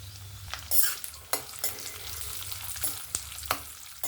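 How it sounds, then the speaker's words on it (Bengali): Almonds, cashews and raisins frying in a pan of hot oil, a soft steady sizzle broken by several sharp scrapes and taps of a spatula stirring them. "কাজু, আলমন্ড, কিশমিশ সুন্দরভাবে ভাজা হয়ে গেছে"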